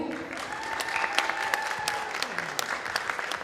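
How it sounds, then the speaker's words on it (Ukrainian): Spectators at a gymnastics tournament's closing parade and awards give a round of applause, a crowd of hands clapping in a steady, somewhat distant patter while a faint tonal voice or music hums beneath. "Гучніші оплески, будь ласка"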